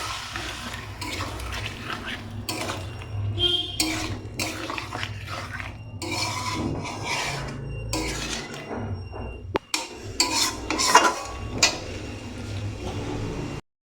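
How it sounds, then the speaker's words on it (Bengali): Curry sautéed with spice water in a metal pan: steady sizzling under repeated spatula scrapes and clanks against the pan, close and fairly loud throughout, with a sharper knock partway through. "মশলার জলটা একটু দিয়ে আর একটু কষিয়ে নিই"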